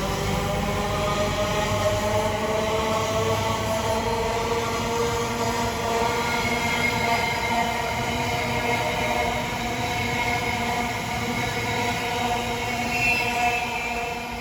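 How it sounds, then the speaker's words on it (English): Elizabeth line class 345 electric train, unit 345033, running through Stratford station on the Great Eastern Main Line, a steady loud rumble and whine of wheels and traction motors lasting throughout with no gaps. "Elizabeth line service from London Paddington to Shenfield"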